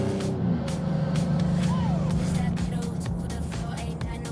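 A Maserati sports car engine drones steadily with tires and wind noise as it accelerates through a corner, while someone talks over it.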